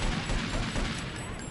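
Rapid pistol shots in the GTA III video game, a dense burst of gunfire at steady loudness under background noise, with no talking.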